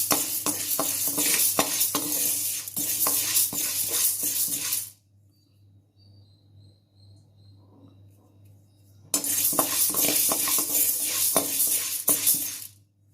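Urad dal (white lentils) being dry-roasted and stirred in a pan over a medium flame, giving a steady, busy run of light scraping and clinking for several seconds, then a quiet gap, then the same stirring clatter again.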